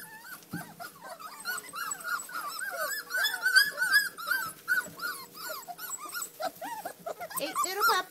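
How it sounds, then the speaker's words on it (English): A litter of eight newborn puppies fills the space with continuous high whines, squeaks and small growls, close and overlapping, while someone talks softly in the background. "8 little puppies."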